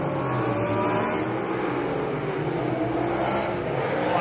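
Speedway race cars roaring around a dirt track, a dense, steady engine howl from several cars at once, loud and continuous with no break.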